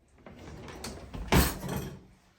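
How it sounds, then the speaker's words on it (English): A kitchen drawer slides open with a short rattling scrape and a clatter of utensils as a whisk is sought, heard close up with no speech. "I go into my drawer and I find my whisk"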